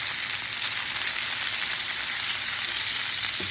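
Fish frying in a pan gives a loud, continuous close-up sizzle with a steady hissing crackle throughout and no one speaking.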